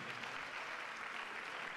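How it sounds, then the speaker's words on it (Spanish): A crowd at a senior ballroom dance championship in Calvià, Mallorca applauds the event organizers, with dense, steady clapping filling the space throughout. "Un fuerte aplauso para ellos dos."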